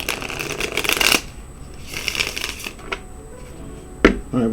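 A deck of tarot cards is shuffled by hand in close, crisp bursts of riffling and flapping, with quieter gaps between them and a couple of sharp card snaps near the end.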